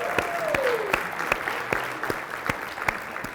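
An audience at a conference keynote claps in a steady round of applause, with sharp individual claps standing out rhythmically, and a short voice sweep near the start.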